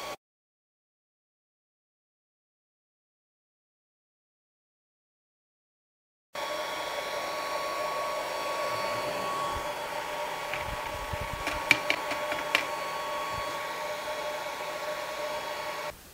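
A Longer B1 30W laser cutting 3 mm birch plywood gives a steady whirring, fan-like hum after a stretch of silence, with a few brief ticks partway through, close and alone.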